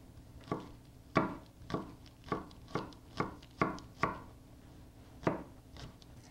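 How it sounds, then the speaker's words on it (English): Scallions being sliced thin with a knife on a cutting board, about ten crisp separate chops at an uneven, unhurried pace, close and clear against a quiet room with no talking. "I'm going to use a couple of scallions. Let's slice these really thin."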